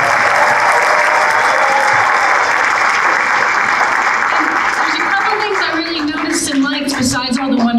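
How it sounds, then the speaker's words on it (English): School audience applauding a first grade class at a program, a loud continuous roar of clapping that fades toward the end as an adult voice begins speaking over it. "So let's give them a huge round of applause."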